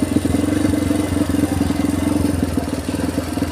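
A motorcycle crosses an uncemented iron bridge, its engine chugging steadily up close while a rattling metallic clatter pulses along beneath it, with no voices heard.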